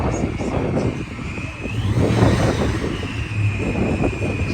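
A loud, roaring car engine at an auto auction rumbles steadily throughout, surging louder midway with a deep, heavy growl.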